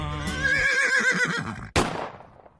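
A horse whinnies loudly at a rodeo arena during a Texas Tech football broadcast, a long wavering neigh followed by a short sharp snort-like burst near the end.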